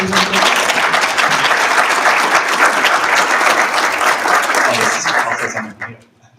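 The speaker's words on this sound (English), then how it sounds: "could we have an applause for Nicole and the rest of the" Sustained audience applause after a paper session at a music technology conference, a dense, loud wash of clapping that carries on for several seconds and then tapers off abruptly near the end.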